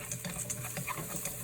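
Sea cucumber and shiitake mushrooms stir-fried in a wok with garlic, shallots and ginger: close, busy scraping of a utensil against the metal pan over a continuous sizzle, with quick repeated strokes.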